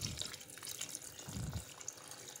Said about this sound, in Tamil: இப்போ இது கூட தண்ணி சேர்த்துக்கலாம்.